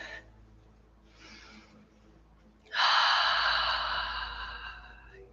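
A deep, full breath taken during a gentle yoga session: two soft breathy inhales, then a loud, long exhale that rushes out and slowly fades, close and alone without talk.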